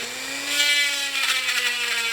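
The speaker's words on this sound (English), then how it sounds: "I'm going to use a Dremel to carefully grind down to those lines" A Dremel rotary tool grinding a knife blank down to traced lines, a steady high whine with a sustained tonal hum and gritty grinding, close and alone.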